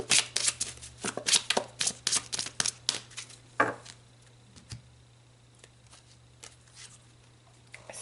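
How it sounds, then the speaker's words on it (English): Tarot cards are shuffled by hand in a rapid flurry of close, papery riffles and taps for several seconds, then the sound falls nearly silent apart from an odd soft tap, with no voice. "So let's pull some more cards."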